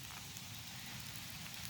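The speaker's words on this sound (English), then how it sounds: "and it's raining" Steady rain falls outdoors at a closed golf course turned park, a dense even hiss of drops with no breaks.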